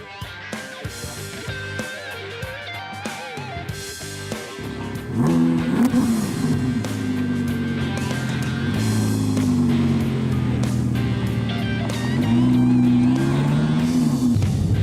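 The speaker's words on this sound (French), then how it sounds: "10 cylindres, V10, 5 litres 2. Il est entièrement atmosphérique, il n'y a pas de turbo" Audi naturally aspirated 5.2-litre V10 engine in a car: quiet idle at first, then a loud rising rev and sustained driving drone with shifting pitch that climbs again near the end.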